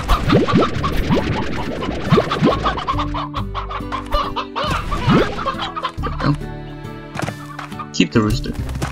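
Chickens cluck and squawk in the Slime Rancher video game, a busy run of short clucks and scratchy bursts over layered game music and sound effects.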